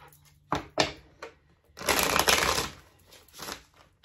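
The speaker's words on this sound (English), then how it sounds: "That was a terrible shuffle." Tarot cards shuffled close by, a few sharp separate slaps followed by a longer dense riffling swoosh and a final shorter flutter, quiet and alone without speech.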